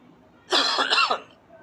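A single short bout of coughing, close and fairly loud, with a throaty rasp, set against near silence.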